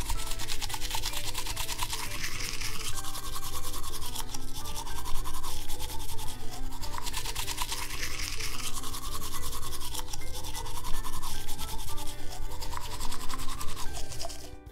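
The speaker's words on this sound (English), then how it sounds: "all we have to do is brush your teeth now" A toothbrush loaded with toothpaste scrubs teeth in a steady, continuous, close-up brushing sound that lasts the whole stretch, loud and even throughout.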